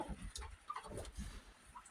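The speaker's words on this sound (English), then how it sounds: "I have birds all over the place. Probably 40 of them in here." Birds cluck and coo throughout a backyard chicken coop housing about 40 birds, including a large turkey-like bird; a few close calls rise over steady low rustling and murmuring, with no talk.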